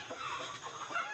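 Village hens cluck in a coop, a short burst of close, fairly loud clucks with a few higher calls layered over a soft background.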